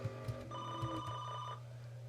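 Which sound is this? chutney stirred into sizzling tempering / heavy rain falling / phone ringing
phone ringing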